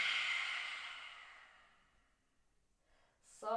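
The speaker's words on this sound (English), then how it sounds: "exhale through the mouth." A single long, soft breath out through the mouth during a yoga session, close and airy, fading away over a couple of seconds before a faint sound at the end.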